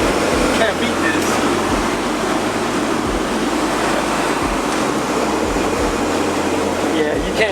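The air conditioning blower in a 1991 Honda Civic runs steadily, giving a constant whooshing roar of moving air heard from inside the car, with a low rumble beneath it.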